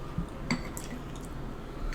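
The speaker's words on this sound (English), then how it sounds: "Excuse the drip." Sauce dripping from a salmon kebab during a mukbang meal, soft wet squishy drips and faint chewing close to the mic, a few small splats over quiet room noise with no talking.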